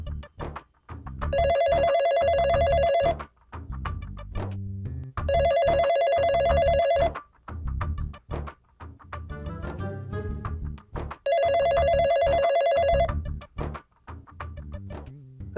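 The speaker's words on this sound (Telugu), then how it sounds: "ఇంట్లో ఫోన్ రింగ్ అవుతుంది చూడుపో" A home telephone bell rings in three loud bursts separated by pauses, with other background sounds in the gaps.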